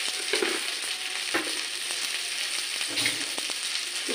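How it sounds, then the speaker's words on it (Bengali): Garlic frying in oil in a pan gives a steady close sizzle with intermittent scraping and stirring clicks, with no voices. "রসুনটা ভাজা ভাজা হয়ে গেছে"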